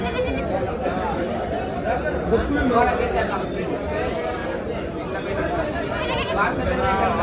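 Goats and young kids bleating at a large goat and sheep market in Chakan, Maharashtra, a dense steady din of many animals close and far, mixed with crowd chatter and voices throughout.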